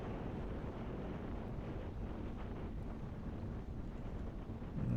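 Strong headwind buffeting the microphone of a cyclist riding in a masters criterium race, a steady loud rumbling roar throughout with no talk.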